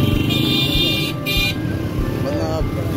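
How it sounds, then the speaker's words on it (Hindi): Street traffic jam in Naudero, Larkana, with cars and motorcycles idling and creeping, engines rumbling steadily close by, a brief horn-like tone sounding, and people talking over the traffic. "traffic jam"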